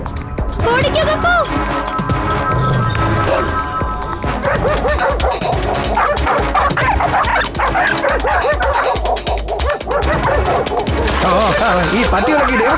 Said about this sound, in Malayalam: എല്ലാ പട്ടികളും നമ്മുടെ പുറകെ വരുന്നുണ്ടല്ലോ